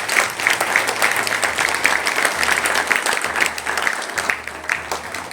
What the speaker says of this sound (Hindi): इनको ताली बजाएं।